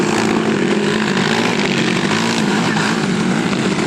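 Small motor engine running loud and steady with a rough buzzing drone close by, holding a constant pitch throughout.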